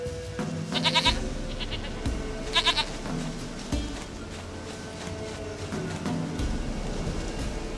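A goat in The Witcher 3 bleats twice, with short wavering cries spaced about two seconds apart. They sound moderately close over a steady ambient game soundscape with low rumbling.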